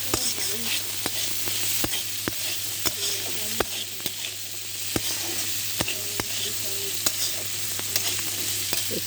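Soaked chickpeas fry in a pan with salt, turmeric and dry chili powder, giving a continuous close sizzle broken by regular sharp scrapes and clicks of a spoon stirring.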